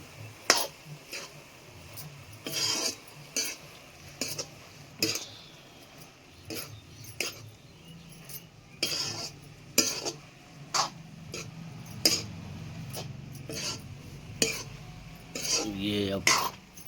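A spoon stirring bohar bhaji, a Chhattisgarh leaf dish, in a metal pan, sharp irregular clinks and scrapes against the pan repeated every second or so over quiet background, with faint talk at times.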